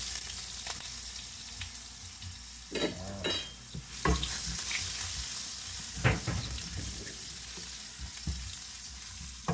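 Ginger sautéed in a pan as the first step of pork pata, sizzling steadily and close, broken by several louder stirring scrapes and splashy bursts.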